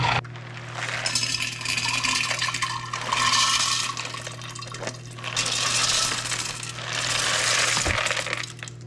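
Dried beans being rinsed and washed in water in a container, with steady sloshing and rattling of beans and water throughout, plus a brief sharper clatter near the end, no talking.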